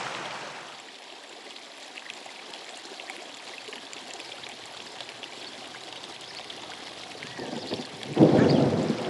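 A video-game thunderstorm by a river: steady rain hisses for several seconds, then a loud rumble of thunder swells near the end.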